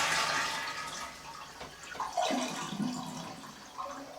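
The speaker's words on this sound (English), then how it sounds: "we are going to flush the toilet to confirm that we had a positive shutoff on the water" A household toilet is flushed with the handle held so the tank empties after the water supply has been shut off, giving a rushing flush that fades into gurgling refill-free draining with a couple of later swirls, close and alone.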